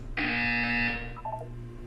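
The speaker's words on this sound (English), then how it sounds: "When you hear the buzzer, look up at the ceiling." A loud electronic buzzer sounds in Portal 2, a sustained harsh tone lasting about a second, followed by a short trailing beep pattern over a steady low hum.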